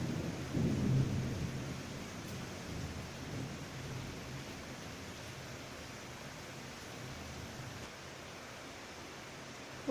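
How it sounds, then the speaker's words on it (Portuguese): Rain falling steadily with a low rumble of thunder swelling near the start, a continuous broadband hiss that stays moderately quiet and fairly even throughout, with no voices. "começou uma chuva aqui com trovão"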